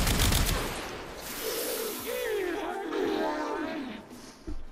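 Bubonico shotgun firing in the video game Warframe, a dense burst of blasts in the opening second followed by a hissing, sweeping tail with a faint squealing tone, and a softer thud near the end.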